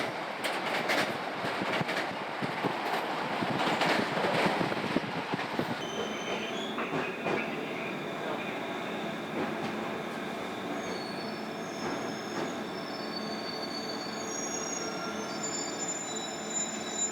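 A commuter train rolls through the mountains of Yamanashi Prefecture, with steady loud rumble and rattling, clickety-clack and high wheel squeals setting in as it runs along, no voices.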